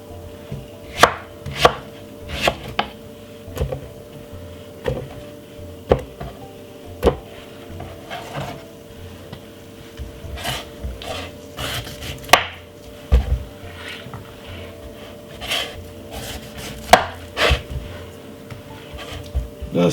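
A knife works through a Galia melon on a cutting board, peeling and slicing in sharp, irregular knocks and taps over steady background hum, some in quick clusters, others spaced apart.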